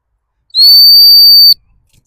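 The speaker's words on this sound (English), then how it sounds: "I'm going to start with a stop whistle." One sharp, high-pitched dog training stop whistle blast, used on a working cocker spaniel gundog, held steadily for about a second, loud and close, with silence before and after.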